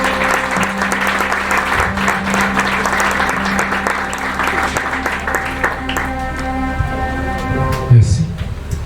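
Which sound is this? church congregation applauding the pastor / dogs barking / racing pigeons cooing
church congregation applauding the pastor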